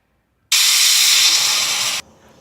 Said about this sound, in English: So that was the third whistle.